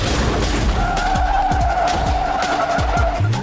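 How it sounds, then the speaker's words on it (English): Tire squeal from a car drifting in the Cruis'n racing video game, a loud, steady screech over engine noise with repeated thumping impacts, lasting the whole stretch without talk. "the sound design is jacked, with tire squealing noises lasting long after you end a drift"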